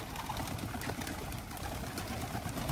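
Racing pigeons released at a race event give steady cooing and flutter over a constant outdoor hum, moderately loud and continuous.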